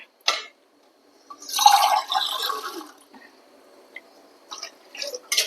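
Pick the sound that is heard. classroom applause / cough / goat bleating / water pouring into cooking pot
water pouring into cooking pot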